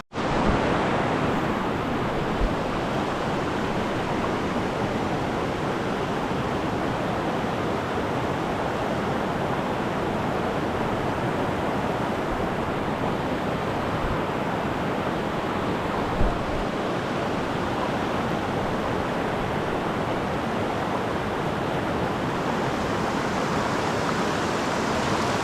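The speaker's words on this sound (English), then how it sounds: "the lower middle stretches of this beautiful but high freestone stream here in the Green Mountain National Forest" A high freestone mountain stream in the Green Mountain National Forest rushes steadily, a dense, even wash of flowing water that fills the whole stretch without any voices.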